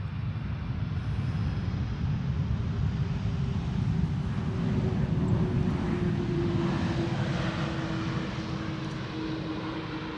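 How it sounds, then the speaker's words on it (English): A Delta airliner climbs steeply away from Schiphol on a runway 24 departure, heard as a steady, loud jet-engine roar with deep rumble and a faint rising whine that holds throughout, with no talk. "Steep climb out from a departure from runway 24, on runway 24. And to my surprise, it is Delta."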